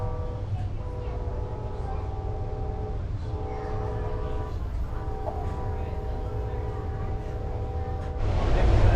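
Amtrak Heartland Flyer passenger train under way in Oklahoma, heard from inside as a steady loud rumble and rolling drone with sustained tonal hum, swelling louder near the end, with a voice faintly underneath.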